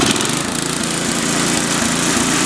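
A rebuilt Toro 521 snowblower engine revs up to full speed, a loud, steady, continuous mechanical drone with no voices over it.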